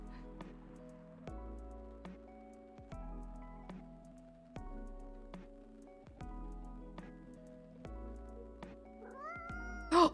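A cat in the video game Coffee Talk 2 lets out one brief, loud meow at the very end, after a stretch of soft, slow plucked background music.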